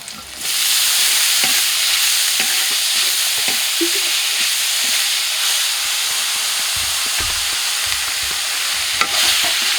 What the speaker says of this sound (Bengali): এবার আমি শাকটা দিয়ে দেবো।